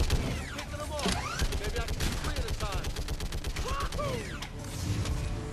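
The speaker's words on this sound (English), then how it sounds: "First time that you really get to use a turret" Rapid turret gunfire in Mass Effect 3, dense rattling bursts running nearly throughout, mixed with mechanical whirs and descending electronic sweeps, loud and close over the game's combat din.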